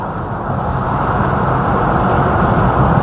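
A car engine being driven on an industrial park road with carbon build-up, making a loud, steady, dense roar with constant road and engine noise throughout, with no talking.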